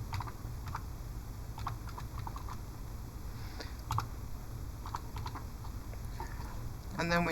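Keys tapped on a computer keyboard while entering text in a graphic-design program, an irregular run of light clicks over a steady low background hum, fairly close, with no clear speech.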